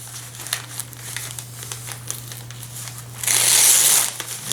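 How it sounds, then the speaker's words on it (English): Someone unwrapping a cardboard package: scattered crinkles and rustles of plastic wrapping, then a louder, denser burst of crumpling near the end, heard close up over a low steady hum. "I guess we'll just unwrap this like a Christmas gift."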